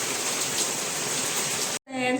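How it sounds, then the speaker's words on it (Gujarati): Steady rain falls in a dense, even hiss that fills most of the moment, then cuts off abruptly before a voice begins speaking. "વરસાદ ચાલુ થઈ ગયો છે"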